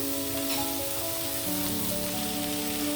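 Vegetables cooking in a little oil in a pan, a dense continuous sizzle like light rain, loud and close, with a faint steady hum beneath.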